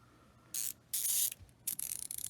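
Fine-tooth ratchet mechanism of a Lang Tools thumbwheel bit ratchet clicking in three short bursts of rapid, close, crisp clicks separated by brief pauses, with no talking.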